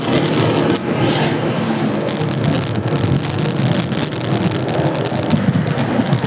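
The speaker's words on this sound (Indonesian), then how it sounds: "namun sepertinya hujan mulai turun" Rain beginning to fall at a road junction near the Kretek bridge in Indonesia, a steady loud hiss of drops filling the scene with a low rumble underneath, no one talking.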